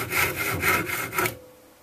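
A carpenter's hand saw cuts through a small piece of wood in three or four quick, rasping strokes, close and loud, stopping abruptly as the cut ends.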